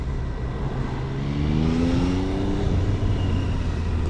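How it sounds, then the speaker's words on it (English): Steady road traffic rumbles close by along a busy street under roadworks, a car's engine rising in pitch as it revs and passes, the wash of noise swelling slightly toward the end. "Loads of traffic around at the moment."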